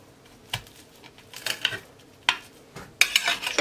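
Dishes and cutlery clatter sharply as food is emptied onto a serving plate in a home kitchen, with several separate clinks and knocks spread across a few seconds and no talking.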